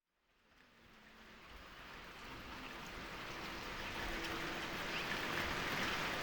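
Heavy rain falls on a farm, a dense steady hiss that fades in from silence and keeps swelling louder over several seconds, with no voices.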